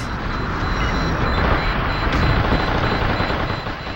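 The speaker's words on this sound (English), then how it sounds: "I think I'm shooting at another mech here." Heavy mech gunfire in the Xbox game Steel Battalion, a dense, continuous barrage of booming shots filling the whole stretch at close range with no voices.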